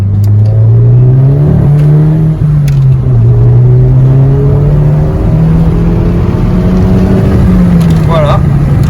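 A Volkswagen Golf V GTI of about 200 horsepower with a stainless steel exhaust pulls hard in a loud, steady engine drone that rises and falls slightly through the run, heard close with someone talking over it.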